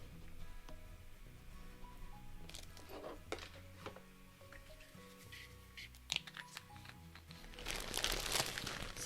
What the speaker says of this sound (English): Secure it with my bone folder.